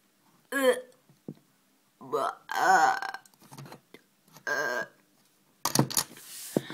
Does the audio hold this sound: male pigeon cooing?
no